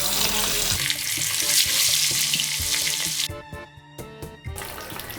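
Fish pieces dropped into hot oil fry with a loud, steady sizzle that fills the space up close, then cuts out briefly before the crackling resumes.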